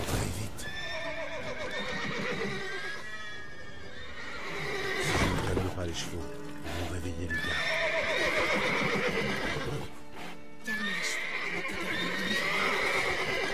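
Horses in a video game (The Witcher 3) neigh and whinny repeatedly, with hooves clopping, while a person talks over the commotion.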